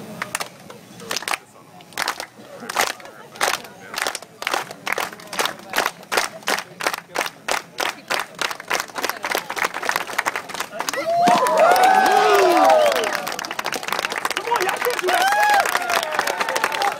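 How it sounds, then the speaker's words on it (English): An outdoor crowd at Venice Beach claps along in a steady, even rhythm, the claps loud and close, then swelling into cheering and shouts with a voice calling out over them. "Everybody clap with me like a family like this"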